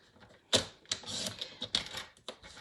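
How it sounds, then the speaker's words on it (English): A paper trimmer slices and clicks close by as a sheet is trimmed for a stamped card, giving a few sharp mechanical snaps among softer scraping and handling sounds. The sounds are quiet, and no one talks. "I'm going to trim off this side."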